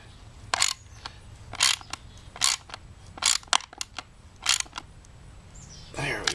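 A hand ratchet cranks a bolt down into a T-nut on a carry plate, giving about six short clicking bursts at a roughly steady pace, with a brief scrape or rustle at the end.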